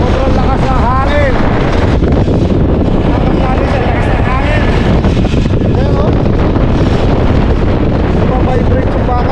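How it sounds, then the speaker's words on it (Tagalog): Strong wind at Haeundae Blueline Park buffets the microphone in a loud, continuous roar while a person talks over it. "Sobrang lakas ng hangin."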